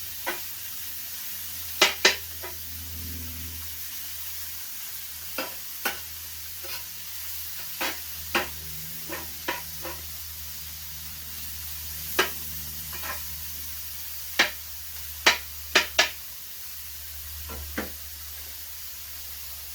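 Rump steak sizzling in a frying pan, a steady low hiss of fat under repeated sharp knocks and scrapes of a utensil against the pan, close by with no talking.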